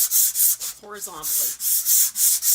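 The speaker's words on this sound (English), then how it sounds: "when you're sanding, you're going to sand in one direction" Hand sanding of a painted wooden surface, rasping strokes in a steady back-and-forth rhythm, loud and close, with a brief spoken phrase in the middle.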